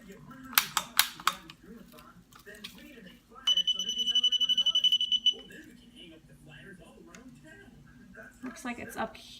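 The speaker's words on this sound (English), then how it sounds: "We're going to do the trigger thing again." A handheld light tester is clicked repeatedly against Christmas tree bulbs: a few sharp snaps, then a rapid burst of clicks with a high electronic tone, while someone talks throughout.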